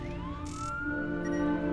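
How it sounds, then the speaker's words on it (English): Police car siren from the TV show Fringe, a rising wail sustained under a dense dramatic score with a brief bright burst, moderately loud and continuous. "I hear sirens."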